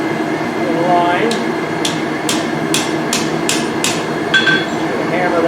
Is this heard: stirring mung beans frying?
no